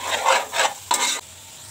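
Meat and potatoes go into a cooking pot for chicken pulao. Three close, scraping, sizzling bursts come in quick succession, then fade to quiet.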